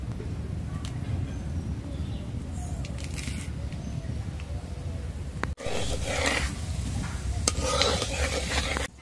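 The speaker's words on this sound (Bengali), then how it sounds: "ফোড়নে দিয়ে দেব শুকনো লঙ্কা আর কালো জিরে।" Dry red chillies and black cumin fry in hot mustard oil in a kadai, a loud continuous crackling sizzle that swells sharply halfway through as the spices hit the oil, with occasional stirring scrapes.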